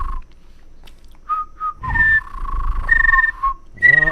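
A person whistles a rolled-R trill imitating a bird, in short tonal phrases that rise and waver. Brief breathy noise sits between the phrases, and no one talks.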